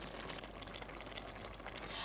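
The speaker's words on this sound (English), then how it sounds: "I've been boiling this red sauce with the lid on" Tomato relish sauce bubbles in a covered pot, a dense, continuous simmering hiss and gurgle heard close up with no talking.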